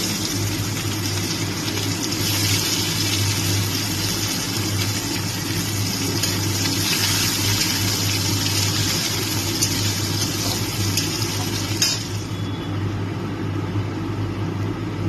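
Chopped onions frying in oil in a pan for a Bengali kochur loti recipe: a steady, dense sizzle and hiss that keeps up without a break, with a faint low hum underneath.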